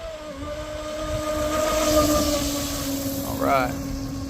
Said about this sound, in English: This is the longest I've ever held a boat wide open.